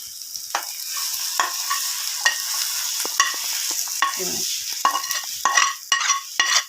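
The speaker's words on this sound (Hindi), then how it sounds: "ये मिर्चें जो हैं इसको फ्राई कर रहे हैं।" Green chillies fry in a pan with cumin and coriander, a steady close sizzle broken by repeated clacks and scrapes of a stirring utensil.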